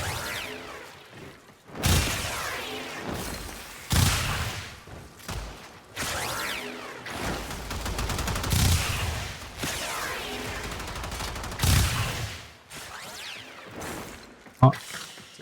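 Dual Toxocyst pistols in Warframe fire in repeated rapid bursts separated by brief pauses, with thumps and whooshing game effects layered over the shooting.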